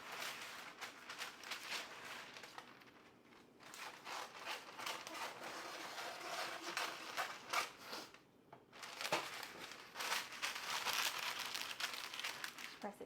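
Parchment paper crinkles and rustles in repeated bursts while shredded potato is pressed into hash browns in a kitchen, close and fairly quiet, with brief pauses between handling.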